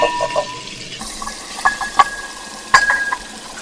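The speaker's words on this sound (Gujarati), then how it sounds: "આપણું ઘી સરસ ગરમ થઈ ગયું છે. એમાં આપણે આપણા મટનને લઈ લઈએ." Mutton pieces dropped into hot ghee in a pan, a few splashy thuds followed by a soft hissing sizzle with clinks of the utensil, close and short, with no talking.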